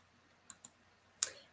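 Sharp clicks from an on-screen name wheel being shuffled, three brief taps with the last one loudest, isolated against near silence.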